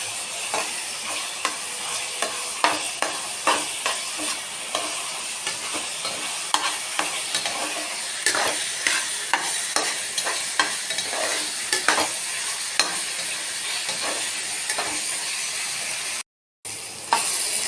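Taro leaves stirred and fried with a hilsa fish head in a pan, giving a steady sizzle broken by repeated scraping stirs, close and clear with no talking.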